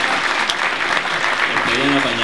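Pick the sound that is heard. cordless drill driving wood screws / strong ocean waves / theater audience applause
theater audience applause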